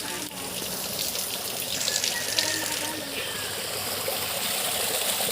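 Spring water flows steadily and continuously at a farm, a close, even rushing splash with no pause throughout.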